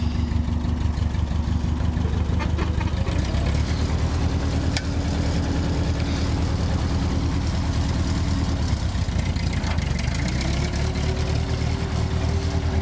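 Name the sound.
old Ford tractor engine running after carburetor repair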